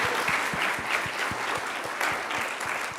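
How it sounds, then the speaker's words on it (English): A conference audience applauds after a startup pitch on stage, steady, full clapping from a crowd sustained throughout. "give them a round of applause"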